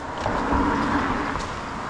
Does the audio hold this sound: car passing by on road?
yes